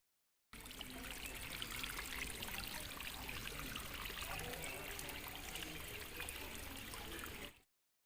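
Natural spring water seeps up through tree roots into a small pond, making a steady, soft trickle and burble that runs evenly throughout, close and gentle, with no voices.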